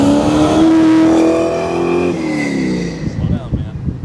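A car engine revs loudly during an exhaust note challenge at a GM Nationals car show at Carlisle Fairgrounds, with a sustained rising roar that holds and then drops away into idle burble, close and dominant.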